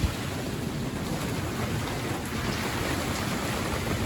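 Steady rain falls in a dense, even hiss around an outdoor Land Rover Series III restoration job, with no talking.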